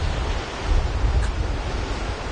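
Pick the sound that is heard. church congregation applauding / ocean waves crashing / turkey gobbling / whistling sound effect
ocean waves crashing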